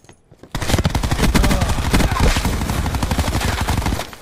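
Rapid automatic gunfire in a video game, a loud continuous burst of close shots lasting several seconds after a quiet start.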